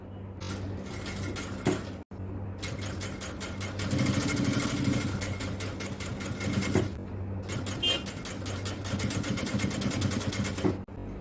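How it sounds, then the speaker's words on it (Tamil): Sewing machine running fast, stitching a seam on an XL-size jalabiya, a close rapid mechanical whir in bursts with short stops between runs. "அடுத்து நாம இதுல ஓர தையல் தைக்கலாம்"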